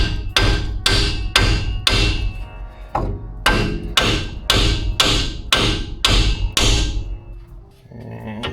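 A hammer pounds a flat spot on a Ford F-150 steering knuckle to break it loose during a front shock and strut install: about eleven loud, sharp metallic blows in a steady rhythm, close by, with no talking.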